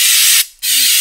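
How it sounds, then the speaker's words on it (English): An aerosol spray can coats a car's engine bay in paint, a loud close hiss that cuts out briefly for a moment before spraying resumes, alone without talk. "Everything that's gonna get painted, I'm spraying it."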